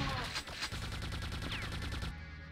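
Rapid gunfire in Quake II rattles off in a dense, continuous volley of sharp shots, loud and close throughout, cutting off abruptly near the end.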